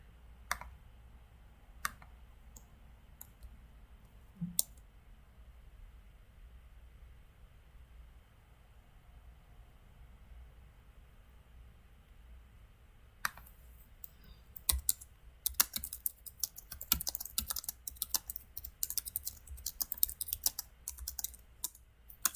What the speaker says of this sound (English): I love to type on my keyboard.